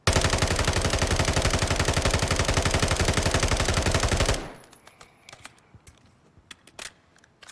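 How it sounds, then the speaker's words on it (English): A rapid, unbroken burst of automatic fire from the FSS Hurricane submachine gun in Modern Warfare 3, loud and close for about four seconds, then cut off, leaving sparse faint clicks and taps. "Just hold the trigger down. We'll compare the two. 1, 2, 3, fire."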